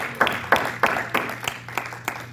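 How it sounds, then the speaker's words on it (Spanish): A church congregation claps together in a steady rhythmic beat, about three claps a second, filling a reverberant room at moderate loudness. "Denle un fuerte aplauso al Señor."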